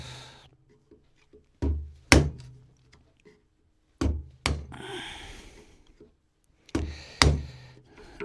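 Sharp chisel struck with a mallet to chop a mortise in wood for a dog gate, three pairs of loud close knocks separated by quiet pauses, with a scraping rustle after some blows.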